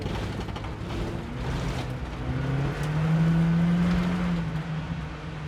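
A 1998 Toyota Camry demolition derby car driving in second gear, its engine droning steadily with a rising whine that swells in the middle, heard from inside along with road and wind noise and no voices.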